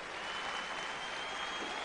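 Steady, dense applause from a large audience at the Femina Miss India 2001 grand finale, cheering the women in the crowd, sustained and even throughout with no speech over it.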